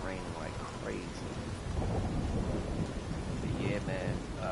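Heavy rain and rumbling thunder in the Division 2 video game's New York setting, a continuous dense downpour with low rolling thunder swelling midway, while a voice talks faintly underneath.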